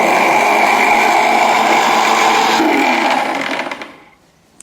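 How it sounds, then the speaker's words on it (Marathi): A mixer grinder whirs loudly at a steady high pitch while grinding roasted poha, then spins down and fades to near silence at the end. "चला, आता हे भाजलेले पोहे देखील मिक्सरला फिरवून घेऊया."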